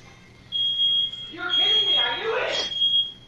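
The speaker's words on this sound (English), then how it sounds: "Dylan set off the fire alarm" A fire alarm goes off in a GTA video game, a loud piercing steady beep that continues while people talk over it.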